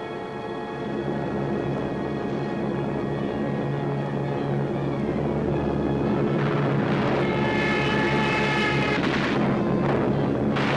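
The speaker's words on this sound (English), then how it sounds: "So the Germans brought up their bombers." German bomber engines from 1940, during the Norwegian campaign: a dense, continuous roaring drone with steady tonal hum, loud and unbroken throughout, with a rising whine near the end.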